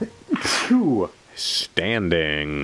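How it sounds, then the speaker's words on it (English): A man sneezes once, sharp and close, with a breathy intake and a burst of noise. A spoken word comes just before it, and drawn-out voiced sounds follow it. "if you happen to sneeze, just as I did"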